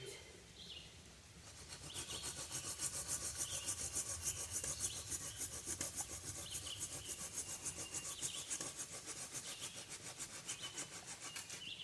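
A SOG wood saw cuts through an inch-and-a-half tree limb outdoors with fast, rhythmic rasping strokes, close and continuous for about ten seconds after a brief quiet start.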